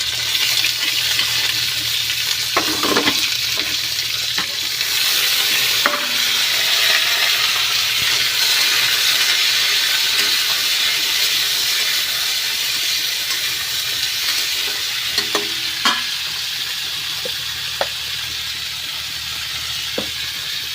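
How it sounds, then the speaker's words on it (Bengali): Mustard seeds tempering in hot oil in a pan for a bitter vegetable curry, a continuous close sizzle with occasional knocks and clinks from utensils. "এই যে সর্ষে ফোড়ন দিয়েছি, তো সর্ষেটা একদম হয়ে গেছে"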